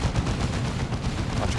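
An artillery strike in Warhammer 40,000: Dawn of War 2, a dense, continuous barrage of booming impacts and rumbling blasts, loud and sustained throughout with no pauses.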